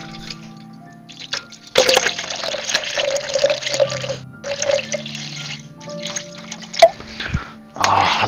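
Liquid pours steadily in the horror game Visage, a continuous watery stream lasting several seconds with small breaks and faint clinks, heard fairly close with no talk over it.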